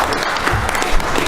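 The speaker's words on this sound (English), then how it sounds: "if you don't mind giving a round of applause for Mr. Justin Speck" A round of applause at a joint appropriations committee meeting, a short dense burst of clapping from a small room of people, loud and close with no talking.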